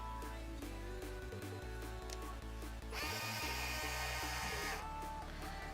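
Set screws come out of a 3D printer pulley during a Voron v0.2 build, heard as close, small metallic scrapes and ratcheting clicks with a brief louder whirring burst midway.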